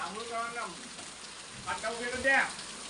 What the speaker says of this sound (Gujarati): જો જો કેટલો વરસાદ વરસે